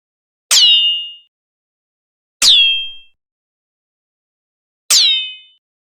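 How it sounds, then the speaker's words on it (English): Classic Hollywood-style bullet ricochet built for a Winchester rifle in a game: three loud, isolated metallic pings, each a sharp crack that rings out and quickly fades, evenly spaced with silence between. "a classic Hollywood ricochet sound."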